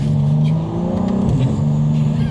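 A 1000HP all-wheel-drive BMW M3 pulls hard in third gear around 5,000 rpm, its engine droning loud and steady from inside the car with a rising exhaust note.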